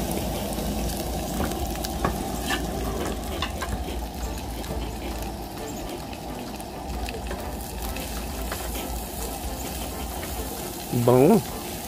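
Onion going into a hot oiled pan while cooking ginataang mackerel, giving a steady close sizzle and frying hiss throughout, with a brief burst of louder activity near the end.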